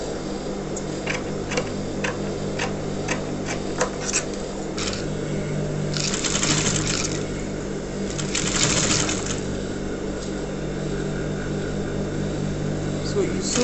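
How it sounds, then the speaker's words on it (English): Sewing machine stitching gathers into Ankara fabric, a steady mechanical whirr running throughout, close and fairly loud, with a few brief clicks and surges along the way. "So you sew that part in form of gathers so that you'll be able to gather it."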